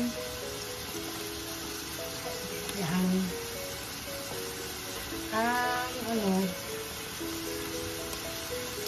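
Carrots tipped into a hot frying pan for chopsuey with quail eggs and chicken liver, giving a steady close sizzle with brief stirring and scraping bursts and a few spoken words over it.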